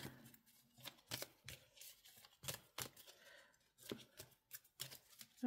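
Paper cash envelopes being shuffled and mixed by hand, producing quiet, irregular papery flicks and rustles in quick succession, close but faint, with no voices.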